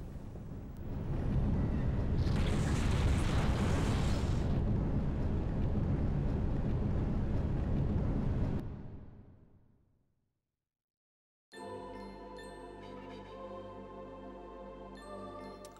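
A loud, dense roaring blast from a mist generator exploding in the video game Legend of Legaia, holding steady for several seconds before fading out into silence, then giving way to game music.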